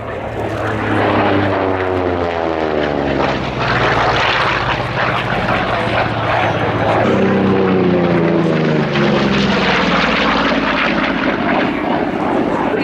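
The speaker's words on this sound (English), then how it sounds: "taking its position on the runway with the very distinctive shape of the Corsair" A Vought Corsair propeller fighter takes its runway position at an air show. Its loud piston engine drones steadily and close, with a shifting harmonic tone as it moves, and announcer talk runs underneath.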